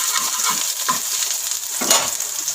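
Grated ginger, garlic and chopped green chillies fry in hot oil with a steady close sizzle, broken by a few soft stirring scrapes, with no talking.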